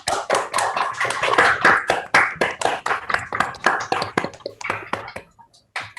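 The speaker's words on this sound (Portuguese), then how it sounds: "a gente dê uma salva de palmas aí" Participants in an online meeting clap together after a talk on van der Waals interaction with a CO2 molecule, a dense burst of applause that thins to scattered claps and fades out.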